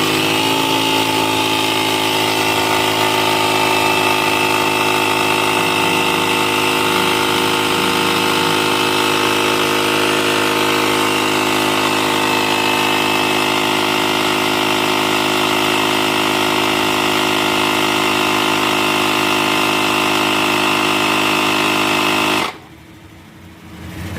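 Portable automatic air compressor used as a tire inflator, running as a loud, steady mechanical drone with a buzzing hum for over twenty seconds before abruptly cutting off near the end.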